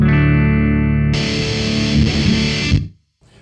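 A sustained, heavily distorted fuzz guitar chord through a Fuzz Imp Creature pedal that thickens into a dense buzzing roar, then cuts off abruptly into silence as the gate closes.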